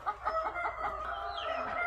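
Hens on a home poultry farm of a few thousand birds, including blue-egg layers kept with a rooster, cluck steadily close by in a short, busy burst with one drawn-out call rising near the end.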